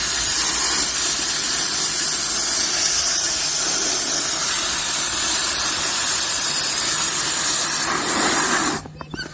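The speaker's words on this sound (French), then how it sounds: "on vient remplir d'eau le sac" Tap water rushes into a 30-litre laundry bag at a camper-van service area with a loud, steady hissing gush that cuts off abruptly near the end.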